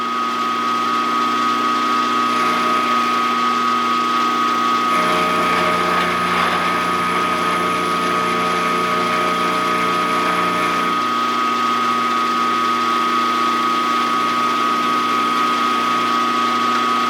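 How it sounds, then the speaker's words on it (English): A small lathe takes a light cut on steel stock for a cross slide, a steady, close machine whine and hum that rises slightly in the middle section and then settles back, continuous throughout. "We'll take a light cut and see where we're at."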